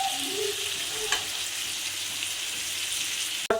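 Spice paste frying in a pan while being stirred, a steady close sizzle with a few scraping strokes and a sharp knock near the end.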